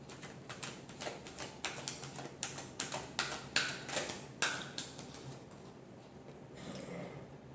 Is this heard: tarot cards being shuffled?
yes